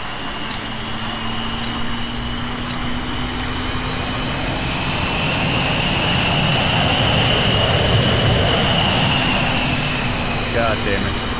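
A jet's APU and engine in the VTOL VR flight game run as a steady, loud whine and roar, swelling slightly midway, with a faint voice speaking underneath.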